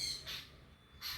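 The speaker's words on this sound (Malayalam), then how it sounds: "കിളികൾ വന്നപ്പോൾ ശല്യം ചെയ്യുന്നുണ്ട് കേട്ടോ വട്ടക്കിളികൾ കരിയിലക്കിളികൾ വന്നിട്ട്" Two brief, harsh squawking babbler calls, fairly faint and separated by a short pause.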